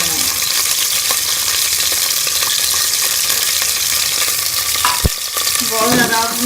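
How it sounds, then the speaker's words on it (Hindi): Onions fry in hot ghee in a pan while cooking a tinday chana daal dish, a loud, steady sizzle filling the whole stretch, with a brief stirring clatter and a voice speaking near the end. "इसके अंदर ये मैं प्याज डाल दूंगी और इसको हम ब्राउन कर लेंगे"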